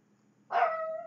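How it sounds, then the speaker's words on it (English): A single dog bark at a home, close and fairly loud, breaking out of silence and trailing into a short tonal yip. "pardon my dogs"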